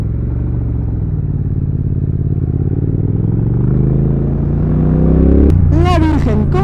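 A late-model café racer motorcycle engine drones steadily while riding, loud and close with wind rumble, its pitch rising gradually as it accelerates; a voice speaks excitedly near the end over the engine.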